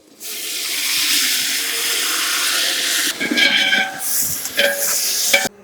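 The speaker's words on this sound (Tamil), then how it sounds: "வெங்காயம் நல்லா வதங்கிருச்சு அடுத்து தக்காளி போட்டுக்கலாம்" Onions and tomatoes sizzle and hiss in a pan while being sautéed for a large batch of sambar, a steady frying hiss followed by scraping and clattering stirring, with no voices.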